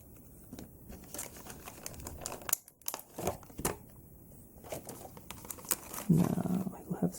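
A pre-cut plastic toy package being opened: repeated close crinkling and rustling of plastic in irregular bursts, with brief quiet gaps.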